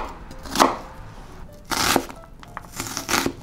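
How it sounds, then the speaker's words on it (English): Knife slicing through an onion on a board, three separate bursts of crisp cutting and crunching spaced about a second apart, close and clear. "I'm just slicing up my onion"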